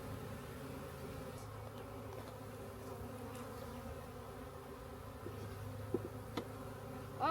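A package of honeybees gives off a steady, low, continuous buzz, fairly soft and even, with a few faint knocks toward the end.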